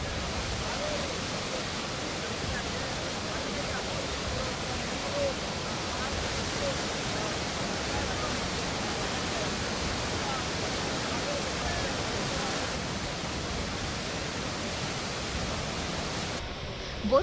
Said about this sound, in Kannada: 170 ಅಡಿಗಳ ಎತ್ತರದಿಂದ ಧುಮ್ಮಿಕ್ಕುತ್ತಿರುವ ಗೋಕಾಕ್ ಜಲಪಾತಕ್ಕೆ ರಾಜಕಳೆ ಆವರಿಸಿದೆ